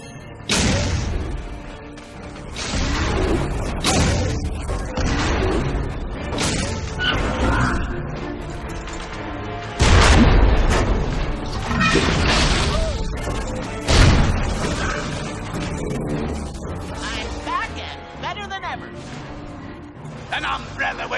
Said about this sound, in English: Fire the cannons, ye blooming cockroaches!